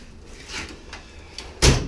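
A toolbox drawer slides with soft scraping rubs, then shuts with one sharp, loud knock near the end.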